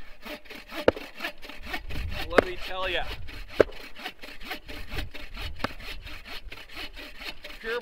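Steady back-and-forth strokes of a hand saw cutting through super dense maple wood outdoors on a cold winter camping day, rasping and close, with a few sharp knocks and a brief spoken remark over the sawing.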